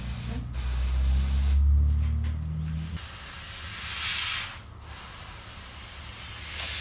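An airbrush sprays paint onto a picture frame in steady hissing bursts, with a few short pauses between passes and a low hum underneath for the first few seconds.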